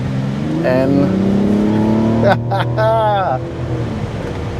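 A 2024 Mazda CX-90 Premium Plus in sport mode accelerates onto a highway on a hot day, its engine a steady rising drone heard from inside the cabin while someone speaks over it.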